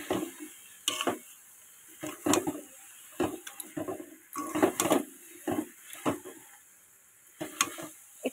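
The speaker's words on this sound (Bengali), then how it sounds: "চিনিটা আর গুড়টা ভালো করে এটার মধ্যে নাড়াচাড়া দিতে হবে।" Jujube pickle with sugar and jaggery is stirred in a pot, giving repeated scraping and clinking strokes of a spoon against metal in an irregular rhythm, fairly faint over a steady background hiss.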